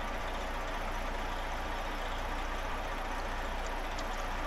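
A heavy truck engine idles in SnowRunner, a steady, low, continuous rumble with a constant drone that holds even and fairly loud throughout, with no other sounds standing out.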